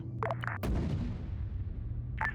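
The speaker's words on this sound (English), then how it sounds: "Hearing mortars fire inside it" Mortar tubes firing in a combined-arms military shooter game: a sharp, heavy boom at about the half-second mark that rolls into a long, fading rumble, with sharper distant reports before it and again near the end.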